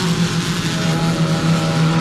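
Stock cars racing on an oval track at an Ecostock event, with the steady loud roar of engines as the field flashes past single file, sustained and close throughout.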